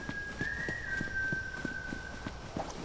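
A steady whistled tune from a character in the video game Borderlands 3, a long sustained melodic line over rhythmic clopping footsteps and game ambience, fairly loud and without speech.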